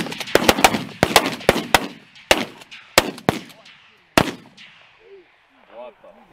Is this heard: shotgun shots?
yes